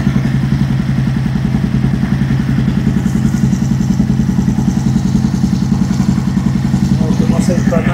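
An Aprilia Tuono motorcycle with a Faketory setup idles close by, giving a loud, steady, rapid throbbing pulse with a mechanical clatter throughout.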